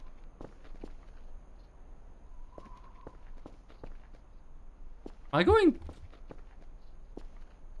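A neighbor stomping around an apartment makes heavy, irregular footstep thuds scattered through the clip, while a person talks over them in the foreground.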